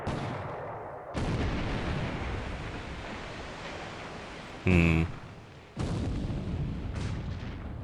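Naval gunfire in the War in the Pacific strategy game: a sustained rumbling battle bed with one sharp, loud broadband blast near the middle, followed by a brief drop and a fresh surge of noisy firing.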